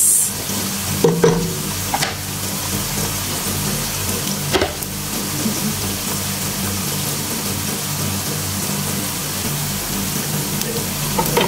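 Onion for chicken biryani sautéing in a pan until translucent, a steady close sizzle with occasional stirring scrapes throughout, no voices.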